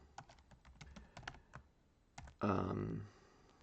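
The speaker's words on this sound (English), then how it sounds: "Let's just type it out and see" Quick, light clicks of keys being typed on a computer keyboard in a quiet room, a short run of separate taps followed by a brief louder burst of noise.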